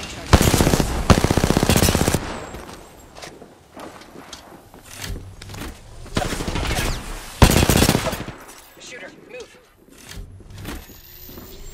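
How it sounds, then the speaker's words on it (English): Rapid bursts of automatic gunfire in a video game, loud and close, with two dense volleys separated by quieter stretches of scattered shots and game effects. "Shots."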